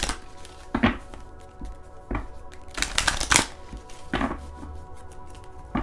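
Tarot cards being shuffled by hand in a quiet room, several quick riffling bursts with soft taps between them, close and fairly crisp, no talking.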